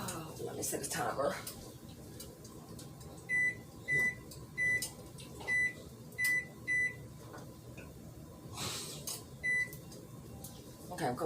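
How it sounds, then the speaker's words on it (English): A kitchen appliance gives a series of short, sharp electronic beeps in an evenly spaced run, as a timer is set on an oven preheated to 400 degrees; background noise and a voice are also present. "Let me set a timer."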